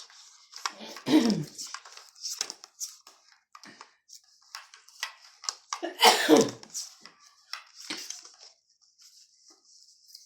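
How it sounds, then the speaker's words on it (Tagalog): A person coughs repeatedly, with two harsher, louder bursts among smaller coughs and throat sounds, and light rustling in between. "Pasensya na ho sa mga ubo-ubo."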